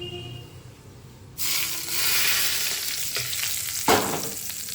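Curry leaves drop into hot oil for a Tamil chilli chutney tempering, setting off a sudden loud crackling sizzle that holds steady and flares once more near the end, with no voices.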